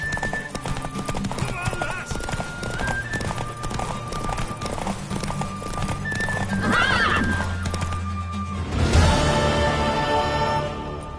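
Horse hooves clip-clop and a horse neighs and whinnies in The Witcher 3 game, close and loud over a music bed with brief talk between characters.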